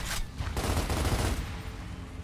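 Gunfire in Gears of War: a quick burst of loud, rapid shots up front, then several more blasts at a slightly lower level, with no voices.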